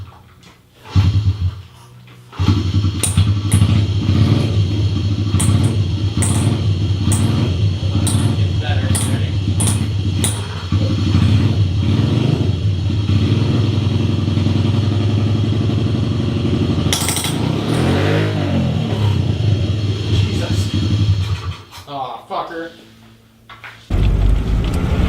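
A supermoto motorcycle on road tires, its engine droning steadily and loudly at close range with occasional blips of revving, while people talk over it.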